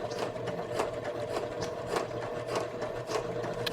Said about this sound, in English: the first thing to do is to top stitch this all the way down